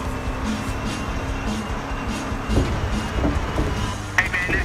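A car driving in Battlefield Hardline, a video game, its engine running steadily and fairly close, with a brief swell midway and a small sharp knock near the end.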